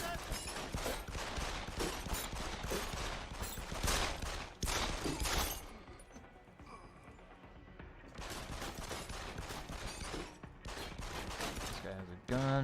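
Sustained gunfire in the action game Deus Ex: Human Revolution on Wii U: rapid, dense volleys of shots rattle almost continuously, pausing briefly midway before resuming, with some voices mixed in.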